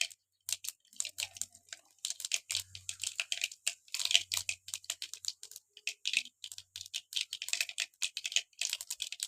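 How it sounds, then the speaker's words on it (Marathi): Mustard seeds and cumin crackle in hot oil over a wood-fired stove, giving dense, rapid, close pops and ticks in irregular bursts, with no talk. "मोहरी टाकली आणि मोहरी टाकल्यानंतर जिरे टाकून घेऊया आपण"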